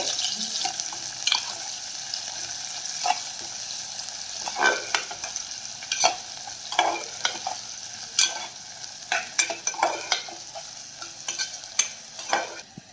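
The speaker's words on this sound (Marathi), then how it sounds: "त्यामध्ये घालूयात बारीक चिरलेला कांदा। कांदा आपल्याला हलकासा 2-1 मिनिटे परतून घ्यायचा आहे।" Finely chopped onion sautés in a pan for paneer matar pulao, with a light sizzle under repeated close scraping stirs of a spatula and occasional clinks, no speech.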